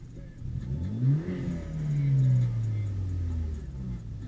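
A turbocharged BMW 328i engine revs and accelerates nearby, its pitch rising then sliding down as it pulls away, steady and moderately loud with no talking.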